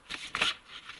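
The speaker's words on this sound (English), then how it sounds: "Now I'm going to shuffle the Shaman's Dream Oracle" A deck of Shaman's Dream Oracle cards being shuffled by hand, giving a few quick papery riffling bursts close by, with the loudest flurry in the middle and no voices.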